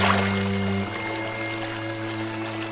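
A donkey falls into water in a story sound effect: a loud splash and pour opens, then settles into a fading, rumbling wash of water.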